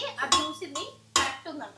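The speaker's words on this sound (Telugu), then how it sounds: "మా అత్తమ్మ గిన్నెలు సర్దుతుంది వెనకాల సౌండ్ వస్తున్నాయి" Cooking pots and vessels are being put away in a home kitchen, giving a couple of sharp metallic clanks and clinks in the background while people talk nearby.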